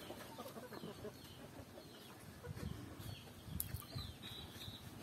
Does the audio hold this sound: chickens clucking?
yes